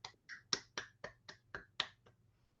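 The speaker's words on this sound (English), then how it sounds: "If I could ask everyone maybe to unmute for a moment and we can clap our first 4 poets" Poetry launch audience clapping over a video call, about eight sharp, evenly spaced claps at close range, growing sparse and stopping near the end, with no voices.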